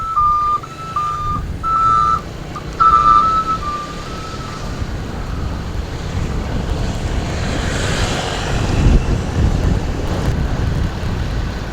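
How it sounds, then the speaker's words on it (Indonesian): A long truck passes on a road near Sleman, a broad rumbling roar that builds toward the end amid wind noise, with a few repeated high beeps early on. "ada truk panjang banget."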